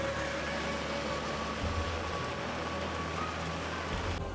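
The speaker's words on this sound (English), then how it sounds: "In the light rain, he steers his rickshaw back home." Light rain patters steadily on a city street at night in Bangladesh, a soft continuous hiss of drops with low traffic rumble beneath, no voices, as a rickshaw heads home through the quieting streets.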